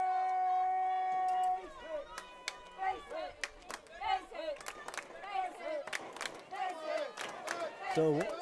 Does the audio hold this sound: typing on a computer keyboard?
no